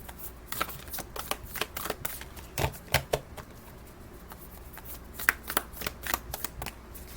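An oracle card deck is shuffled by hand in quick, crisp riffling bursts, close and fairly quiet, with no talking.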